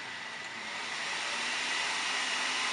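An XFX R9 290 Black Edition graphics card fan spins at 70 percent speed, a loud, steady airy whoosh like a hair dryer that rises slightly and holds, with no talking.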